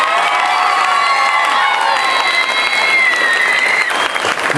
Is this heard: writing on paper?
no